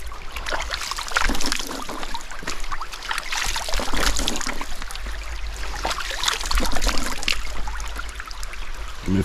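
Water splashes and trickles in quick uneven bursts as a face is washed with natural water outdoors while fishing, close by and fairly loud, with no one speaking.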